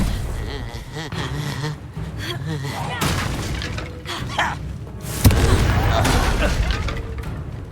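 Confringo fire spell explosions in Hogwarts Legacy combat, booming blasts and crackling impacts over busy game sound, with a louder burst late on, while a person talks over the fight.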